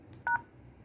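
Telephone keypad DTMF tones from a Grandstream WP810 VoIP handset, entering a mailbox number and then the pound key: two short, clear beeps in quick succession, loud and close, with no talk over them.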